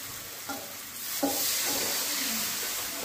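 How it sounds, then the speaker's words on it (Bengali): Water poured into a pan of fried spice paste in hot oil for a vegetarian paneer and matar dal fritter curry, giving a steady close sizzle with a couple of sharp bursts as the water hits, and no talk. "এবার আমি জল দিয়ে দেবো"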